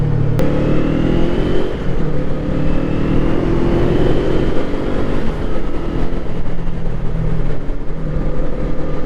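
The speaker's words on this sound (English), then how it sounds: "this bike wants to rev clearly" Kawasaki Eliminator motorcycle engine revving while riding, a loud, continuous engine drone that climbs in pitch as it accelerates, with wind and road rumble underneath.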